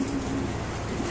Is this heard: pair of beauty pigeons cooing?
yes